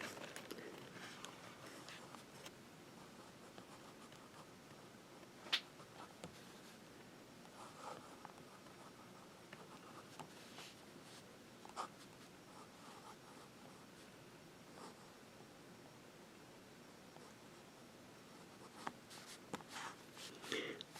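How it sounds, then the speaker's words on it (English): A Fuliwen Diamond Line fountain pen with a fine nib writing on paper, soft scratchy strokes and small taps close by, quiet and intermittent with brief pauses between words. "let's go ahead and write the name"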